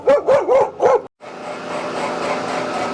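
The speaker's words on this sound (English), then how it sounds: "I woke the dogs from their slumber. One barks, the other one barks." Dogs bark four times in quick, loud succession close by, then a steady rushing mechanical noise takes over after a short gap.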